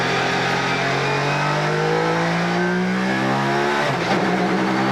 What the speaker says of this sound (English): Out of the pit lane and onto the Hockenheim short circuit for the first time in a Class 1 touring car